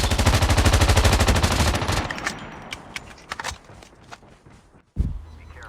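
Rapid automatic gunfire from a Call of Duty Mobile shootout, a loud dense burst for about two seconds, then scattered single shots and footsteps, ending with one sharp blast.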